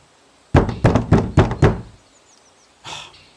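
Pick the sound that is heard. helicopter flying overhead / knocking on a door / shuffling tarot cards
knocking on a door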